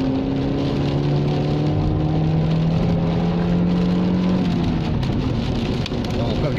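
A Vauxhall Vectra B's engine drones and rises in pitch as it revs to climb a hill on a Cornish road, a steady loud cabin hum with road and wind noise throughout.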